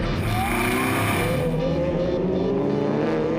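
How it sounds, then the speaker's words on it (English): Supercars including Porsches, Ferraris, a KTM Crossbow, Lamborghinis and BMWs race on a circuit, engines roaring loud and continuous as cars sweep past, pitch shifting with passing and gear changes. "Porsches, Ferraris, crossbows, Lamborghinis, and BMWs, all fighting for honors at the front end of the G&H Transport Extreme Supercars"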